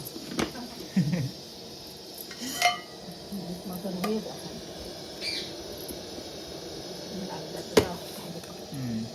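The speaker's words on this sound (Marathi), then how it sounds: "आणि तिकडे मागे असा आरुश्री भांडी घासता" Dishes and pots are scrubbed and clinked somewhere behind a home kitchen where crab curry simmers. The scattered metallic clatters are fairly faint and sit under the nearer cooking noise and some brief voices.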